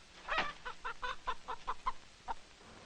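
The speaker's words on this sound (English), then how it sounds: "Yes, and we even deliver chickens." Chickens cluck in a quick, uneven run of about a dozen short calls, one louder squawk at the start and a final cluck after a pause, fairly close and alone.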